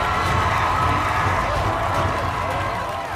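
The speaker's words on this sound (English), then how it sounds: "Look, the crowd is arriving." A large crowd arrives with a dense wash of cheering, shouting and footsteps, loud and continuous, with speech mixed into the noise.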